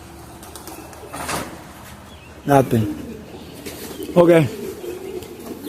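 Homing and tippler pigeons cooing close by in a loft, with a few rolling coos and a brief wing flutter while someone speaks a couple of short words.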